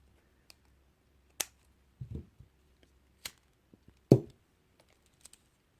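Scissors snip through cord for a kandi cuff in a few sharp, close clicks, scattered among faint handling taps in an otherwise quiet room.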